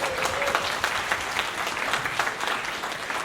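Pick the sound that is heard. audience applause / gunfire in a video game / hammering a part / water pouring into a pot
audience applause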